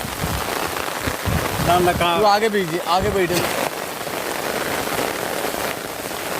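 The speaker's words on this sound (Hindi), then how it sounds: "बहुत बारिश है।" Heavy monsoon rain pours down on a flooded Mumbai street, a dense, loud, continuous hiss and patter on surfaces, with a person speaking briefly over it near the start.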